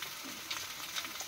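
Chili powder goes into food frying in a pan, giving a steady, soft sizzle with faint crackles and stirring scrapes throughout.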